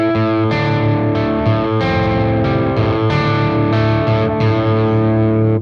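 A hard-rock riff, played on a distorted electric guitar up at the 7th position, thick and loud, with chords struck in a steady rhythmic pattern of short choppy hits and sustained ringing strums.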